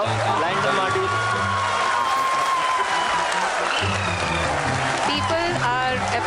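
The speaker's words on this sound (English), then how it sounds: "People are applauding." An audience applauds at an ISRO lunar lander mission event, a steady wash of clapping running throughout beneath music and a speaking voice.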